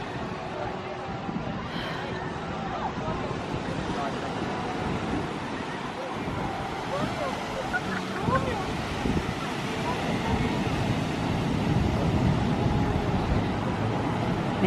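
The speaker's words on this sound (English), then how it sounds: "Look at those waves pouring in." Pacific Ocean waves and surf roll in beside Santa Monica Pier at night, making a steady, full wash of breaking water that builds slightly toward the end, with wind buffeting the microphone throughout.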